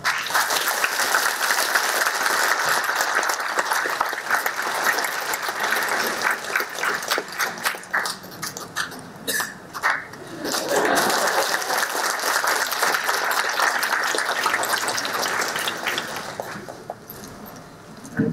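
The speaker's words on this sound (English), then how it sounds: "A big round of applause, please." A crowd claps steadily in sustained applause at a university graduation ceremony, dipping briefly midway before swelling again and tapering off at the end.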